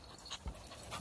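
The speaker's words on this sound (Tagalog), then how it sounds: "Ito yung aso namin." A dog pants in short, quick breaths over a noisy outdoor background near a soccer plaza in South Korea, the sound close and fairly soft and lasting about a second.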